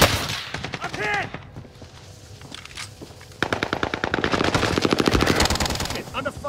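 Rapid automatic gunfire from a submachine gun rattles in Call of Duty Warzone, a long dense burst followed by more sustained fire, loud and close, with brief in-game callouts and chimes between volleys.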